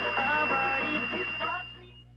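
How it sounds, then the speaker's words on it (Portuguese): An old shortwave radio tuned to a broadcast on tropical and short waves, a muffled, band-limited voice-like signal over a steady hiss and a high whine, fading away near the end. "Observem que tem um chiado, sempre um chiado ao fundo."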